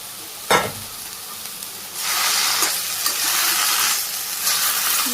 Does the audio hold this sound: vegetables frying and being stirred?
yes